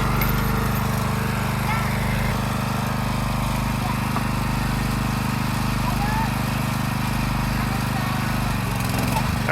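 A log splitter runs with a steady engine drone while firewood is split and stacked in the dark, the motor loud and continuous throughout.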